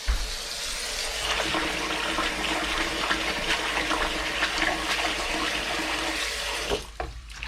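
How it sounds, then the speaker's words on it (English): Spinach is swished and pushed around in a sink or bowl of water, a steady close splashing and running-water rush that stops abruptly near the end. "Give that spinach a few little pushes just to get any dirt off here."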